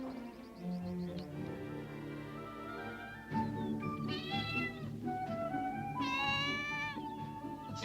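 A cat meows repeatedly in a domestic scene from a classic Lassie episode, with several drawn-out, wavering calls that rise and fall, loud and close, over a faint music bed, with no talk.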